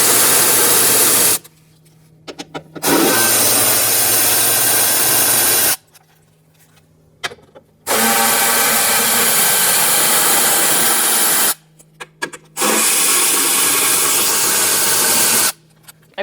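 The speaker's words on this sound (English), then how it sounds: "Now we're going to remove some bolts to remove the regulator and motor out of the vehicle." A power tool drives a 10mm socket on the window regulator bolts inside a 2007-2017 Ford Expedition door. It comes in three loud, sustained whirring bursts of a few seconds each, split by short quiet gaps.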